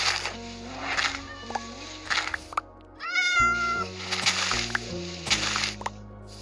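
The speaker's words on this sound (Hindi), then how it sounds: "यहाँ पे प्यारी प्यारी बिल्लियाँ भी हैं।" Several short cartoonish Minecraft cat meows repeat over a synthetic backdrop of tones, with a brief gap midway.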